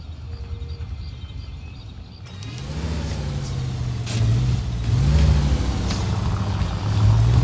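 A car moving through the city streets in L.A. Noire, with the engine rising and falling steadily and traffic noise around it. It gets louder and fuller partway through and carries on without any talk.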